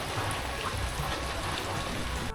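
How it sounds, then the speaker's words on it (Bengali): Steady, dense hiss of heavy rain pouring down continuously in the Bandarban hills of Bangladesh, with a constant watery roar filling the whole stretch. "দেখুন প্রচুর বৃষ্টি হচ্ছে"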